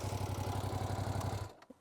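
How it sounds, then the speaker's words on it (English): A Ducati Panigale V2 motorcycle engine revs at a standstill, a loud, pulsing, throbbing idle-rev for about a second and a half before it cuts off abruptly, leaving a few faint clicks. "at a standstill revving it doesn't actually sound that great"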